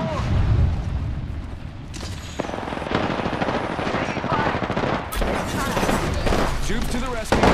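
Explosions and rapid machine-gun fire in an online shooter game, with a grenade-like boom amid dense overlapping bursts; loud and continuous, with voices over the battle.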